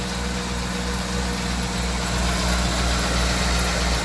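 A repaired Ford Econoline van's engine idles steadily and close by, a continuous low rumble with a slight vibration and no talking.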